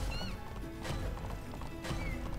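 Rhythmic clip-clopping of horse hooves in the horse-racing game Alicia Online, with a brief whinny and light music underneath, a steady moderate gait.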